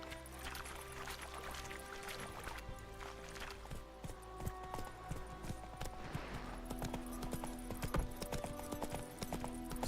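A horse is ridden in The Witcher 3: Wild Hunt, its hooves clip-clopping in a steady, moderately quick rhythm over a soft game ambience, close and fairly quiet.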